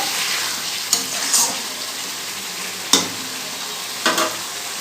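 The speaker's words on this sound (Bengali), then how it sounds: "মশলাটা কষা একদম রেডি হয়ে গেছে তেল ছেড়ে দিয়েছে মশলার গা থেকে" Spice masala for a raw banana curry stir-fried in oil over lowered heat, a loud close sizzle with three sharp spatula scrapes spaced a second or two apart, no talking.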